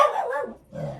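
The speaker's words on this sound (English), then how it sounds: "And that is my dog barking" A dog gives a single loud, close bark that trails into a short second yelp, heard indoors with no talking over it.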